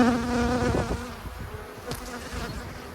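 Honeybees buzz in a steady hum as a beehive is opened for the first inspection in late January, with dense droning near the frames and a few handling sounds.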